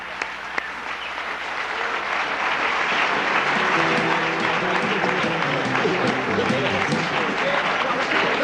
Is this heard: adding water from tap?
no